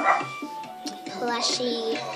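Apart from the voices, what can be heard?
dogs barking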